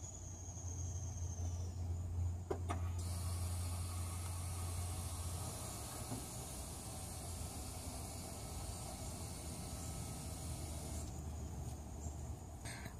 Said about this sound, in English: I engaged the parking brake and then I disengaged it so that it wouldn't go completely out and touch the wood block